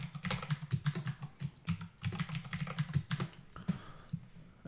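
A password being typed on a computer keyboard, heard as a close, rapid run of keystrokes with brief uneven pauses and no voices.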